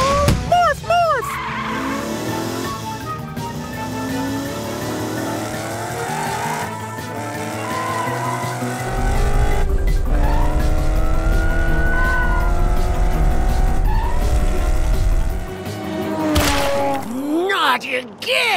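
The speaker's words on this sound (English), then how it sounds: "morph into a race car so we can catch Orphle!" Cartoon race car speeding and skidding, with a loud engine roar, repeated tire squeals and sliding skids over music and animated character voices.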